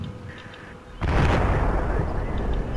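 Artillery bombardment in the Combat Mission Shock Force video game, Marines campaign: near silence breaks at one second into a heavy blast, followed by a sustained loud rumbling roar to the end.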